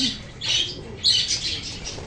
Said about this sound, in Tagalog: Dadagdag natin ito sa mga alaga nating parakeet nandito.